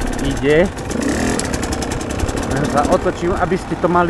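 Fantic XE 300 dirt bike idling outdoors, its engine running steadily and loudly close by while someone talks over it.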